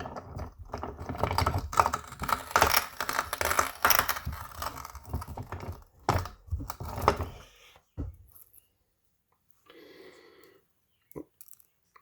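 Hard rock quartz holding gold is cut and trimmed to remove extra rock, with dense, gritty crunching and clattering close by for several seconds. It then fades into a few scattered clicks and silence.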